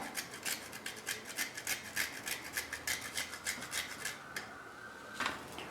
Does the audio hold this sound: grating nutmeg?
yes